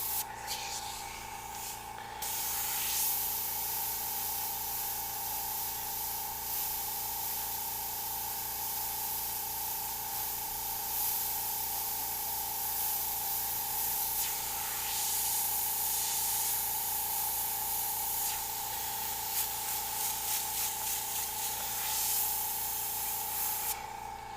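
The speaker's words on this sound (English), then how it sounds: "A little mist paint there, a little mist paint here." Spray paint mists steadily onto a Warhammer servo skull model, a close, continuous hiss that runs for the full length, with a few slight surges.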